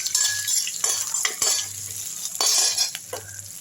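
Dried red chillies and tamarind fry in hot oil, a close crackling sizzle broken by repeated scraping strokes of a spoon against the pan in an uneven rhythm.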